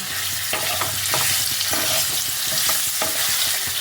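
Potato pieces for stuffed Kashmiri aloo dum fry in hot oil with a loud, dense sizzle, turned over and over so a spoon scrapes the pan in regular strokes.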